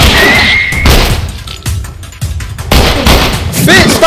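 Gunfire erupts in The Last of Us during a zombie fight, bursts of shots and crashing impacts coming in loud clusters across the clip with voices shouting over the chaos.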